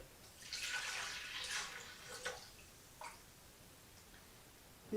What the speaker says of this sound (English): So the first thing I'm going to do is I am going to pour my chicken broth in.